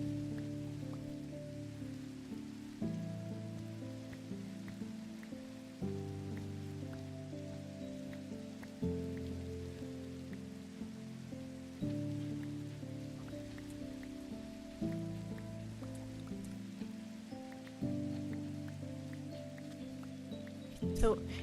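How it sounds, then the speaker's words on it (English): Steady rain falls in the video game Minecraft, a soft continuous hiss running under layered background music that changes chords every few seconds. "So it's so rainy."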